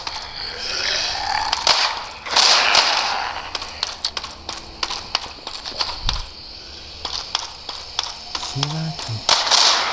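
Video game gunfire comes as rapid sharp mechanical cracks and clicks in scattered bursts, close and crisp, with brief talk from a player between the shots.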